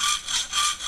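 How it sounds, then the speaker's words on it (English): Ordinary hacksaw cutting through 3mm metal plate, close and loud, with about two full back-and-forth strokes rasping in a steady rhythm, no talking. "Start with an ordinary hacksaw"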